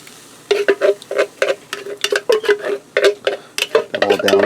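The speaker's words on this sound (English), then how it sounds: "now I'm going to add in a can of crushed tomatoes" Crushed tomatoes from a 28-ounce can go into a hot pan of sautéing onions, giving a close run of wet, scraping, clattering bursts over a faint sizzle. There is no talking.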